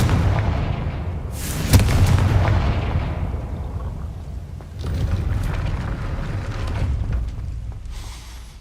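In Hogwarts Legacy, a Confringo fire spell goes off as a sharp, loud blast that rolls into a rumble, followed a few seconds later by a second, softer burst, with no voices.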